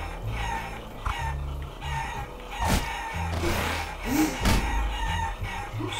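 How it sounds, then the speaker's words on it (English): Cartoon chickens cluck and a rooster crows in the video game Guacamelee!, sounding in several short bursts over a busy game soundtrack with no talk. "Get these chickens in the pen, bro."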